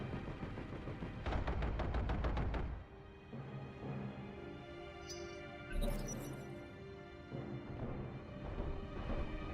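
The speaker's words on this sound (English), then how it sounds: "It was close enough to fire machine guns" Mech machine guns firing in BattleTech, a rapid burst of evenly spaced shots for about two seconds, loud and close, followed by heavier impact and rumble sounds amid game background noise.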